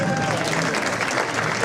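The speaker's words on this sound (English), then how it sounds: "Applause, please." A Juneteenth program audience breaks into a brief, dense wash of applause at a steady, fairly loud level with no pause.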